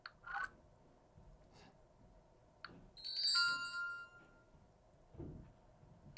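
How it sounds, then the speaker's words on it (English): A Samsung Galaxy Note 20's S Pen plays short character-style notification sounds, quiet and close. A few chirps and taps are followed by a brighter chime-like jingle, with gaps of near-silence between them. "So those are the character sounds."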